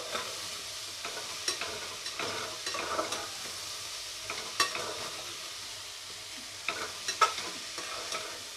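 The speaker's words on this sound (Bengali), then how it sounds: "এবারে এই মশলাগুলোকে আর নুনটাকে ভালো করে আলুর সাথে মেশাবো।" Potatoes with spices and salt sizzle gently in a pan over low heat as a spoon stirs them, making soft intermittent scrapes and taps. Close but quiet, with no talking.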